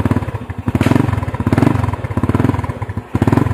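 A motorcycle engine being started and running, a close, steady low putter with rapid even firing pulses throughout, no speech.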